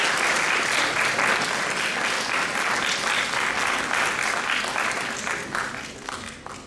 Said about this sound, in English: I would like all of you to give a big round of applause in appreciation for your wonderful teachers here.